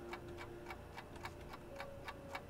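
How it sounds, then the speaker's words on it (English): Alarm clocks tick in a kitchen in the video game Alan Wake, a steady, evenly spaced mechanical tick-tock, crisp and close, with no voices. "And there's alarm clocks."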